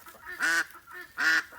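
Two loud nasal honking calls from ducks or geese, close by with a short pause between them, as hens and ducks are let out into a yard.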